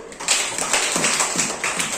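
Students in a classroom clap, a short burst of close, steady hand claps that continues briefly.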